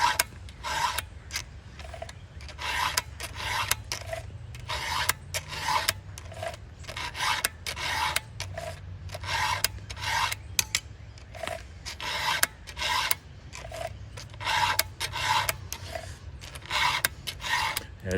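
A hand file rasps across chainsaw rake teeth in steady back-and-forth strokes, a crisp scraping beat repeating roughly every second, close up and without talk.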